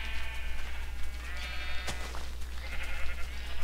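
Sheep bleating in Minecraft, a steady game bleat sounding close and clear and lasting throughout, with no talking over it.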